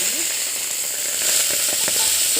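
Tomatoes cook with lentils in a pan for a leafy-greens dal, giving a steady sizzle with faint clicks and stirring scrapes near the end.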